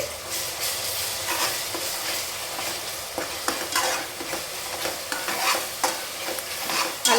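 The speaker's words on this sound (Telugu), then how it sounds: "అల్లం వెల్లి పేస్ట్ బాగా వేయించుకోవాలి" Ginger garlic paste frying in hot oil for a gongura chicken curry, a steady close sizzle broken by repeated scrapes and taps of a spoon stirring the pan, with no voices.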